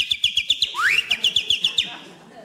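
A man imitates a bird call with his voice, producing a rapid series of sharp, high chirps and a rising whistled glide, close and clear, over roughly two seconds before fading.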